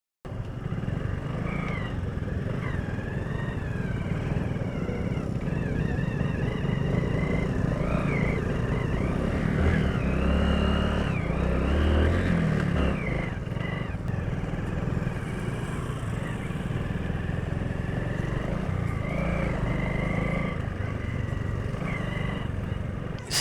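A motorcycle without off-road tires rides through sand in southeast Sri Lanka, its engine droning continuously with rising and falling revs and a rough, strained note throughout, while wind noise rushes past.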